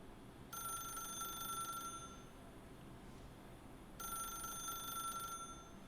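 Telephone ringing in The Stanley Parable: Ultra Deluxe, two long electronic bell rings separated by a pause, fairly quiet against a steady background hum with no talking.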